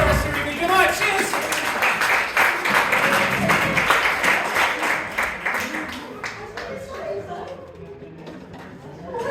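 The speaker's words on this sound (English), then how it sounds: "give him a big round of applause" A live comedy hypnosis show audience claps at the close of the performance, a dense wash of applause mixed with crowd chatter and voices that thins out and grows quieter toward the end.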